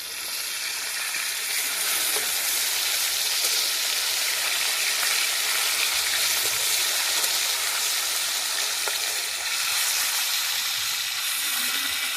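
A hilsa fish, just flipped over, fries in a pan with a steady, loud broadband sizzle and hiss that holds evenly throughout, with occasional faint crackles and no voices.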